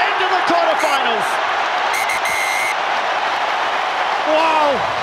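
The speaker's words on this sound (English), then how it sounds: "Wow, what a noise inside St. James's Park." A loud, continuous roar from a packed St. James's Park crowd at the Rugby World Cup 2015 match between Scotland and Samoa, with a commentator talking over the din.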